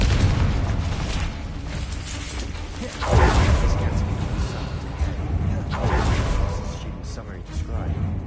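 A Confringo spell blasts in a Harry Potter video game, with a heavy boom around three seconds in and another softer burst later, over a dense rumbling game soundscape with a voice speaking.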